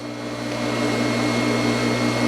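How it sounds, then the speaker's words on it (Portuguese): A sewing machine runs in a steady continuous whir, stitching the shoulder seams of a knit blouse, close and even with no pauses. "agora eu vou costurar aqui os ombros com a parte costa"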